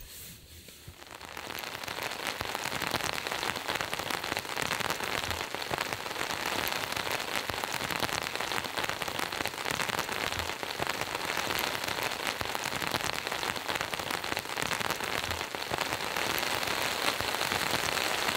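Steady heavy rain drums on a tent and tarp at a campsite beside a truck, a dense continuous patter that swells in the first seconds and then holds loud and even.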